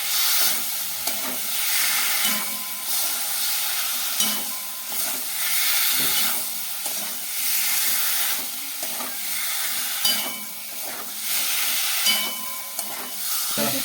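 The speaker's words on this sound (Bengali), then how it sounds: "সেটা একটু ভালো করে কষিয়ে নেব তারপরে সিদ্ধ করা আলু দিয়ে দেবো" Masala and boiled potatoes stir-fried in a pan for a Bengali lentil-fritter curry, with steady sizzling and hiss under repeated scraping and stirring strokes, close and continuous with no talk.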